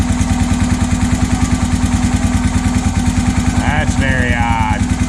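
A Honda 650 motorcycle engine runs with a bad, fast and steady knock from the crank area, loud and close, while a voice briefly speaks over it.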